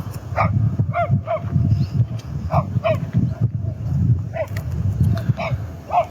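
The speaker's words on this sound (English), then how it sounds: "And I wish that dog had shut up." A dog barks repeatedly outdoors, loud and fairly close, in an irregular run of single woofs and short clusters with no talk over it.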